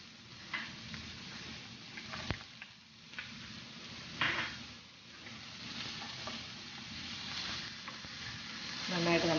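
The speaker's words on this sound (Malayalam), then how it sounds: "സവാള കൊത്തിയരിഞ്ഞത്, നന്നായിട്ടൊന്ന് വഴറ്റിയെടുക്കാം." Chopped onions and green chilli sautéing in a pan, a low steady sizzle with intermittent scrape and stir clicks of a utensil against the pan, close by and fairly quiet.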